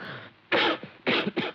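A man coughs and clears his throat, three harsh, close bursts after a softer rasp, in a 1976 Hindi film scene.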